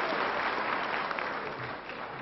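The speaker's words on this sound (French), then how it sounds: "Non, non, mais il n'y a pas de quoi applaudir." A theatre audience applauds a French comedian's stage monologue, with dense, moderately loud clapping that tapers slightly toward the end.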